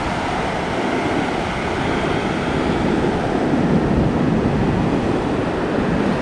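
Ocean waves at an Australian beach on a Sunday morning, a loud, continuous wash of surf mixed with wind buffeting the microphone, with no voices.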